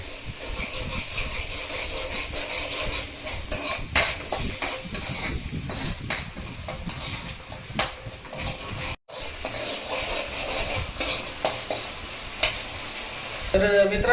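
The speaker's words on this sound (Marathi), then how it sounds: "तर हे आधी आपण ना चांगलं तेलात परतून घेणार आहे." Fish frying in oil in a pan, a loud, dense crackling sizzle with frequent stirring clatter and one brief dropout midway, close and continuous.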